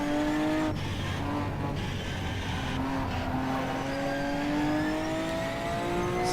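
URD Darche race car lapping Sebring at night in rFactor 2, its engine loud and close with rising and falling rev tones across gear changes, a continuous high-pitched drone with no talk.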